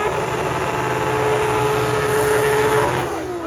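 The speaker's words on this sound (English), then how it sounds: "Front wheel drive burnout first." Front-wheel-drive car doing a burnout at a drag race, a steady loud engine roar with high revs held for several seconds, tire noise blended in, no talk.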